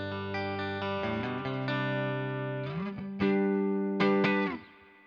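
A Fender Hot Rod Deluxe III amp on its clean channel carries electric guitar chords with reverb: several sustained chords ring out one after another, close and clear, with no talking.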